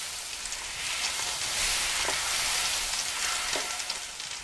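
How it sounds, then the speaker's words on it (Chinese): Sliced pork belly stir-frying in a hot pan, a steady close sizzle with occasional brief crackles and scraping stirs, no voices. "五花肉切片下锅煸炒"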